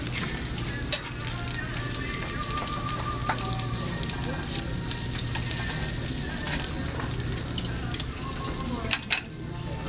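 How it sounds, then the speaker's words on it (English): Food searing in a hot pan with garlic, a dense, steady sizzle running throughout, close up, with a few faint clinks and scrapes of turning the food near the end. "Just turn it over to sear to get a nice color."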